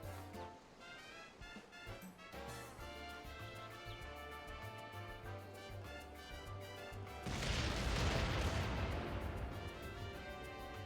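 Layered Final Fantasy XIV music and effects build to a loud, dense burst of rumbling explosions in the latter half, sustained for several seconds.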